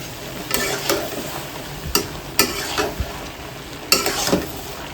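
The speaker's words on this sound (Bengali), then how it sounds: "এখন একটু জালটা মিডিয়াম করে জাস্ট ভাজা ভাজা করবো" Marinated fish frying in a pan over medium heat, a steady close sizzle broken by several sharp clicks and scrapes of a utensil stirring and turning the pieces, with no talking.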